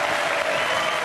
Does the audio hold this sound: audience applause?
yes